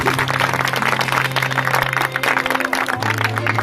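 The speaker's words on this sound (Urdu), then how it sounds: "آئے زوردار تالی خدا کے جلال کے لیے" A church congregation applauding during a worship service, dense loud clapping throughout, with a sustained low tone underneath.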